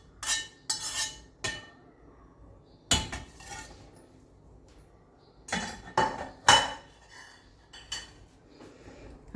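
A metal spoon transfers fried cashews and raisins into a pot of rice payasam made with condensed milk, giving sharp clinks and scrapes against the metal in scattered bursts with quiet pauses between, no talking.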